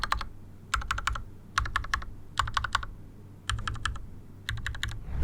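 Typing on an Akko mechanical keyboard fitted with lubed Gateron Pink switches: seven short, soft bursts of rapid keystrokes separated by brief pauses, close and clear over a low steady hum, with no talking.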